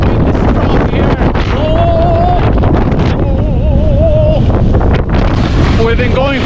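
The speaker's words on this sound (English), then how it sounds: "Oh, the wind is strong here." Strong wind roars across a steep ski slope called the wall at Tandådalen, Sälen, Sweden, during a snowstorm, buffeting the microphone in a loud, unbroken rush with faint voices underneath.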